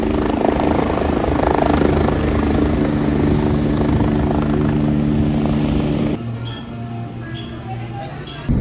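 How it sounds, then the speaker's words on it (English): A helicopter lifts off beside a healthcare center near the Garden State Parkway on the Jersey Shore, its loud, steady rotor and engine drone filling the air before dropping sharply in level as it pulls away. "it looks like this helicopter's about to take off"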